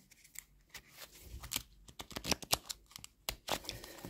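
Crisp, sticky peeling and crackling sounds come in quick irregular bursts as stiff laminated tarot cards stuck together are pulled apart up close.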